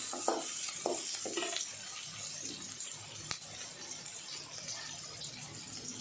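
Onions frying in a pan until golden for a green gram dish, a steady soft sizzle with a few scraping stir strokes near the start and a brief sharp clink midway, no talking.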